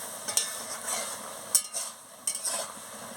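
A spoon stirs a potato, drumstick and eggplant vegetable curry in a pan, making a few distinct scraping clicks over a quiet, steady simmering hiss, heard up close with no voices.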